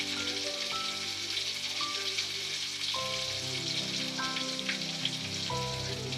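Fish frying on a stove over a low flame, a steady crackling sizzle running the whole time beneath sustained musical tones, moderately quiet and even.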